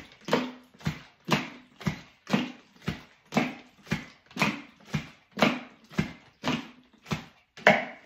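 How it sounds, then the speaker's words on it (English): Water sloshes inside a film developing tank as it is inverted ten times, each turn giving a short splashing thump in an even rhythm of about one every 0.7 seconds, close and fairly quiet. "I invert it 10 times."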